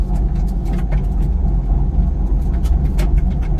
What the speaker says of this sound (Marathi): पहिल्यांदा गाडीचा आवाज बघा येतोय